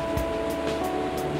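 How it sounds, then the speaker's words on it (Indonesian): Sea waves roll gently onto a sandy beach on the Bali Strait coast, a steady continuous wash with a soft surge repeating every few tenths of a second, mixed with a faint low hum. "Laut biru dan ombak mengalun tenang ke tepian."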